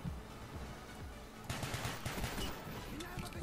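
Rapid gunfire from Call of Duty: Black Ops, a quick burst of closely spaced shots starting midway and continuing as a rattling volley over steady game background noise.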